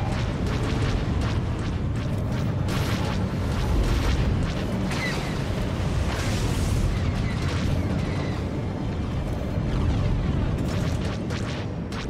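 Missile explosions in a video game land as dense, rumbling booms layered over continuous battle noise, loud and sustained throughout.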